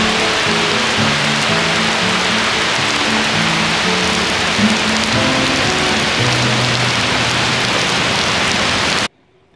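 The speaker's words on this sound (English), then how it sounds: "Wow, look at this rain coming down." A loud, dense roar of heavy rain pouring down outdoors near a river, continuous hiss of drops on surfaces that cuts off abruptly at the end, with no talking.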